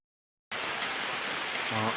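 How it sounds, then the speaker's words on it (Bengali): Rain begins abruptly and falls in a steady, dense hiss close by, continuing unbroken to the end, with a brief low tone near the finish. "অবশেষে বৃষ্টি নেমে গেছে"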